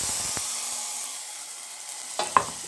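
Ground paste for tomato rasam sizzles in a hot pan as a steady, soft hiss, then a few clattering stirs of a spoon near the end.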